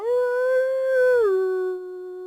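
A single long wolf howl rises, holds a clear sustained tone, then drops and trails off, loud and alone, used as a spooky sound effect in a Dracula story reading.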